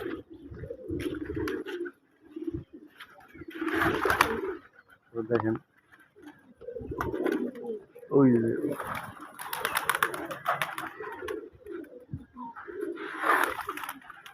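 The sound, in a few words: pigeons cooing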